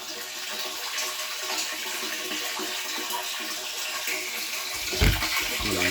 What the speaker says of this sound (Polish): od samego rana pompuję sobie wodę